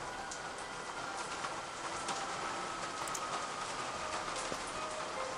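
Steady rain falling in the horror game The Kiosk, a constant close patter on surfaces with occasional sharper drips.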